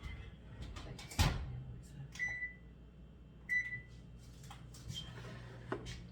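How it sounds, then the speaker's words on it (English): Oven being switched on and set to 350 in a home kitchen: a loud click, then two short electronic beeps a second or so apart and a few quieter taps and clunks, with a low hum underneath. "I am going to turn your oven on to 350"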